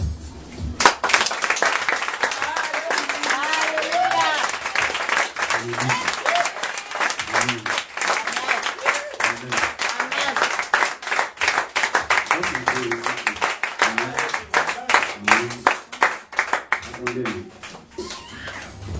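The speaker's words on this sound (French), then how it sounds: "Je veux que quelqu'un acclame le Seigneur." A Sunday church congregation claps and cheers for the Lord for about nineteen seconds. The applause is dense and steady, with shouted voices and cheers woven through it and a few louder claps standing out near the end.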